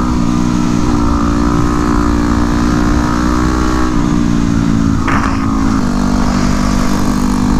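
A 2009 Yamaha WR250X supermoto motorcycle on new tires being ridden, its single-cylinder engine droning loudly and steadily with small rises and dips in pitch as the throttle changes, wind rushing underneath.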